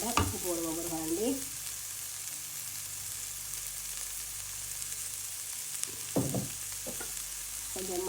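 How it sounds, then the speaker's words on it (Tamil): Carrots and other vegetables for vegetable soup sizzle steadily in a pan with a constant frying hiss, broken by a few close scraping stirs at the start and near the end, with no talk. "கரட்டையும் போடுவோம். ஒரு மெல்லிய அளவுக்கு வதங்கி வந்துட்டு இதோட உப்பு போடுவோம்."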